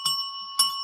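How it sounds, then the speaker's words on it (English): A small hand bell, the kind rung to summon someone, rings twice, each a bright sustained tone with steady overtones, the second strike following about half a second after the first and both ringing out loudly. "you rang the bell for her."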